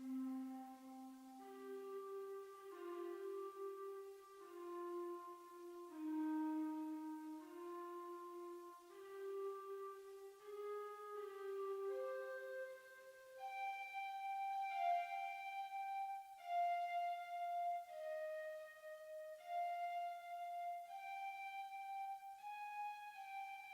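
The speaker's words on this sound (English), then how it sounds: "I also added this flute as like a counter melody over the piano" Soft, breathy flute playing a slow, stepwise melody of sustained notes, climbing higher midway, alone and fairly quiet.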